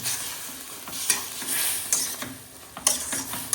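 Tomato is stirred into a sizzling curry in a pan, a spoon scraping and knocking against the metal in uneven strokes over a steady close frying hiss, with no voices.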